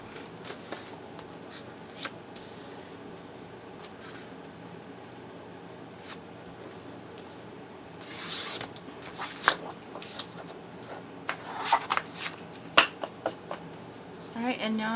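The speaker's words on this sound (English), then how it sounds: "I'm going to cut it right in half." A paper sheet cut in half for a junk journal cover, soft slicing and rustling at close range that grows busier toward the end, under quiet talking.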